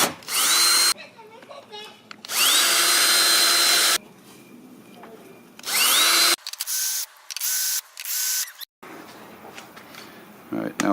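A power drill drives screws into wall holes while hanging an IKEA shelf, several loud whirring bursts rising in pitch as they spin up, separated by pauses with clicks and handling noise.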